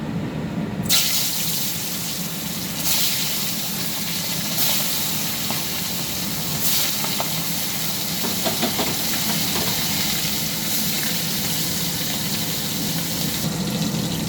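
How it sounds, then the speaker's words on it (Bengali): Fish marinated in salt, turmeric and raw oil, frying in a pan: a sudden loud hiss starts as the fish goes in, then settles into a steady, bright sizzle that continues evenly throughout. "এবার এগুলোকে ভেজে নেবো।"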